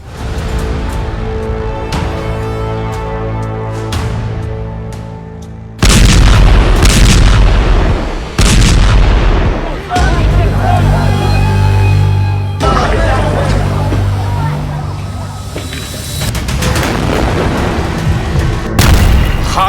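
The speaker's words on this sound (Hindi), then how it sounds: "गाजा में गिरते गोलों के बीच" Shells exploding and artillery firing in Gaza, a run of loud, heavy booms and blasts that keep going across the whole stretch, with a sharp impact partway through and a dense, rumbling wash of sound between them.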